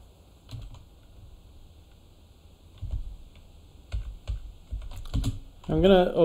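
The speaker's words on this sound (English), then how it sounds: "It asks me to type in my sudo password." Keys clatter on a computer keyboard as a sudo password is entered: scattered, close keystrokes in small clusters, ending with a brief voice at the close.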